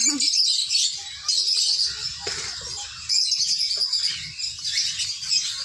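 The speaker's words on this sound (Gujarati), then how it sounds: "ગુલાબી મોટા આવું પક્ષીઓ છે ને બધા" Birds chirping in the aviary at Kankaria Zoo in Ahmedabad, a continuous bright twittering chorus close by, with faint low rustling beneath.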